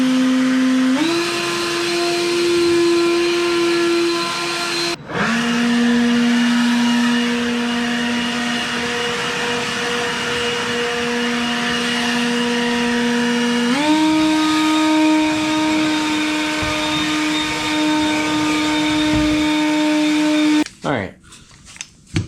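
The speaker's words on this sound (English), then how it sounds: "even though they just call this a jet blower, this would be better for leaves and you know, yard waste and whatnot" A Bauer 20V cordless jet blower whirs steadily at close range, its pitch stepping between speeds across several sustained runs, with a brief cut-off midway and a clatter as it shuts down at the end.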